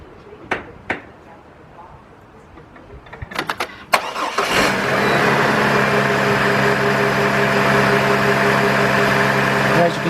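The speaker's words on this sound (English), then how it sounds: "I'm gonna go start this vehicle up and get a good closer look at this" A 2002 GMC Envoy with a cylinder 3 misfire is started. A few clicks and thumps come first, then the engine cranks, catches and settles into a steady, fairly loud idle.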